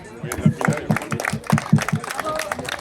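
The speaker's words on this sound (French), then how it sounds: "On peut les applaudir." Audience applause after a women's freestyle football show, scattered clapping under ongoing talk and crowd noise, with a rhythmic thumping running through it.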